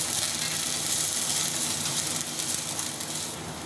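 Ginger stir-fried in a pan for a braised eel dish with ginger and scallion, giving a steady close sizzling hiss that tapers slightly at the end.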